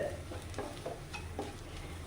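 Turmeric and coriander powder frying in a pan while being stirred, soft repeated scraping strokes roughly every quarter second over a low, steady sizzle.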